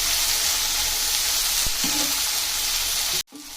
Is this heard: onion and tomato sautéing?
yes